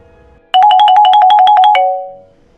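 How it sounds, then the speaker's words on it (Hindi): A phone ringtone plays a quick run of about a dozen bright pulsing beeps for just over a second, then fades out, loud and close in an otherwise quiet room. "ओ पापा का फोन।"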